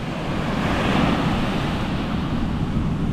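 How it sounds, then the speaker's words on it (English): Ocean surf washes up onto a beach in El Salvador, a steady, loud roar of breaking and rushing water with wind buffeting the microphone throughout, no voices. "the waves were coming up real close and strong"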